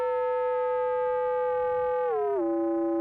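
Sustained electronic bell-like tone with a bright harmonic stack, captured through a phone microphone, holding steady before sliding down in pitch in two steps near the end, heard alone.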